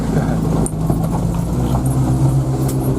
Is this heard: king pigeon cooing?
no